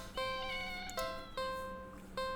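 A black cat with yellow eyes, found in a cardboard box at the end of an alley, meows four times in clear, close, tonal calls spaced across a couple of seconds, with no talking.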